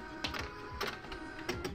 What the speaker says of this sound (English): Now we're going to turn the printer on and connect the USB cable to both the PC and the printer.